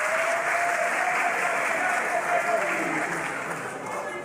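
Crowd applauding at a youth rally for a mobilisation campaign, a dense wash of clapping that holds steady and then slowly fades, with a faint voice carrying over it.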